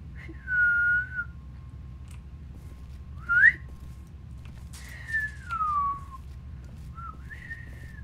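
A person whistles a few wavering notes in short, separate phrases: a held tone, a quick upward chirp, then a longer falling note. The whistling is clear and fairly close over a steady low background hum.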